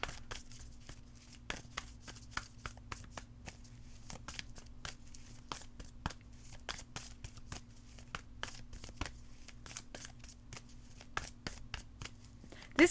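Oracle cards are shuffled by hand, producing a quiet, rapid run of crisp riffling flicks and papery slaps, close and continuous with small pauses, without speech.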